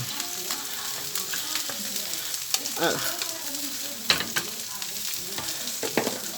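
Fish and peppers cooking in a pan, a steady close sizzle with scattered spatula scrapes and taps throughout, no talk.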